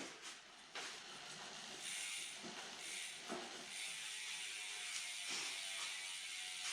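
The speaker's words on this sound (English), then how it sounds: "give the wheel a good few cranks. Let it spin for a bit, really get that sealant moving" A mountain bike wheel set up tubeless spins freely to spread sealant, making a soft, steady hiss and whir with faint repeated ticking from the freewheel, quiet and close with no talking.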